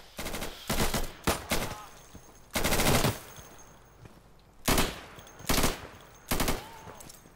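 Gunfire in the Insurgency video game: loud, close automatic bursts, about eight short volleys in an irregular rhythm, separated by brief lulls with faint background noise.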